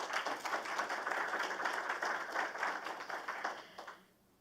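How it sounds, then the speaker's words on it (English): A live audience applauds student presenters at an LSU Shreveport pitch event, a steady crowd of clapping hands holding for about four seconds before tapering off at the end. "please give them all a round of applause again"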